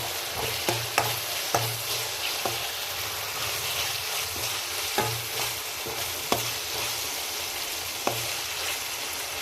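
Tomato curry cooking down in oil for Rayalaseema uggani keeps up a steady, broad sizzle. Occasional sharp spoon taps and scrapes cut through, close and continuous throughout.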